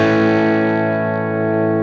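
Divided by 13 EDT 13/29 guitar amp with a Vintage 30 speaker rings out a sustained, hard-struck chord with a slight crunchy distortion, close and loud, slowly decaying over about two seconds.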